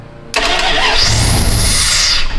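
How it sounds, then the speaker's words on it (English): A square-body Dodge Ram truck engine is cranked by jumping the starter solenoid wire. The starter whirs in steadily, loud and close, and keeps grinding for about two seconds with no talk over it. "Okay, so that cranks the engine."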